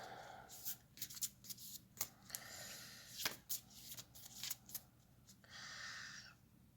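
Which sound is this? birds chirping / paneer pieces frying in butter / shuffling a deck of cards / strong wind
shuffling a deck of cards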